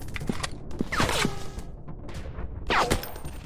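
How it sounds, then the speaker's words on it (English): Gun reload in a Counter Terrorist 3D FPS shooting game: a few metallic clicks and sliding clatters with a swishing sweep, set over a steady background of game noise. "Reloading!"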